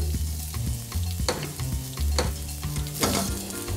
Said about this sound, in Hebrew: ברגע שהוא מתחמם, מתחיל עם טיגון, שלב ראשון